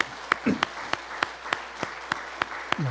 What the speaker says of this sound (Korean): 우리 박수로 함께 축복하겠습니다